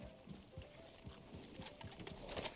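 Horse hooves clip-clop in a steady, evenly spaced rhythm at moderate distance, heard on their own with no talking.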